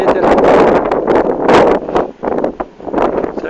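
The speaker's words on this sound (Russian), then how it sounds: "На горе ветер." Wind gusts across a Mediterranean mountainside overlooking a bay, a steady broadband rush that swells and eases in waves, close and loud against the microphone.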